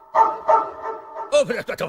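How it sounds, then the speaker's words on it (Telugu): A dog gives a few short barks, spaced apart and fairly close, followed by a quick burst of yips, with voices talking over part of it. "చూడండి, చక్కటి చుక్క. కాదు, కుక్క."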